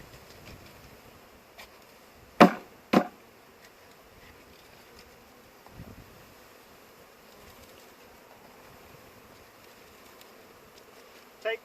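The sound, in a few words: honeybees buzzing as shaken into hive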